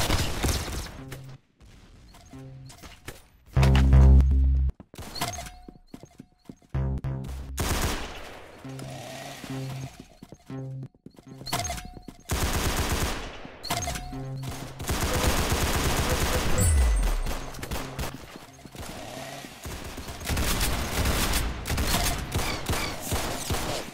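Sustained gunfire in the Roblox shooter Arsenal: loud, dense bursts of automatic and single shots rattle through the whole stretch with only short gaps, mixed with game effects.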